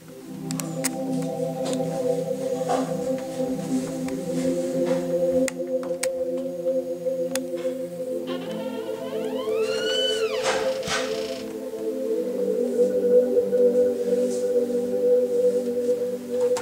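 A polysynth pad patch called Underwater Asgard Pad: a steady, murky layered drone with watery warbles and a rising, bending chirpy sweep near the middle, continuous and moderately loud with no voices.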